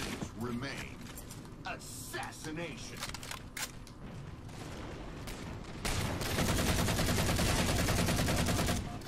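Assault rifle gunfire in the Halo 4 video game, rapid automatic bursts that swell into a sustained loud stream of shots near the end, with game effects around them.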